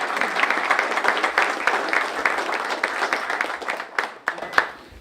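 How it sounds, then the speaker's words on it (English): Applause from guests at a chamber of commerce legislative reception, a fairly full patter of claps that thins into a few loud, distinct individual claps near the end. "So I'd like to give you all a round of applause and thanks from the chamber"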